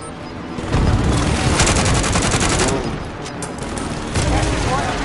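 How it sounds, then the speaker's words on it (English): A precision airstrike in Warzone erupts as a dense, loud fusillade of rapid gunfire-like blasts and booms rolling over several seconds, with a second burst near the end. "Allied precision airstrike incoming"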